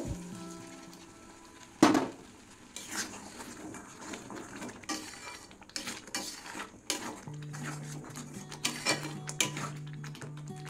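Masala frying in a pan for palak paneer, with water added partway, crackling and sizzling under repeated clanks and scrapes of a spoon against the metal pan.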